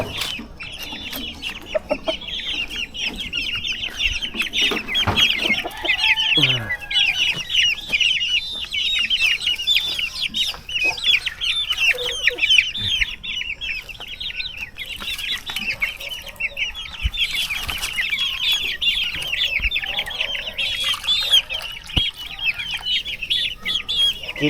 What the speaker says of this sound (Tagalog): na mga manok ang mga inaalagaan ni Sir ngayon.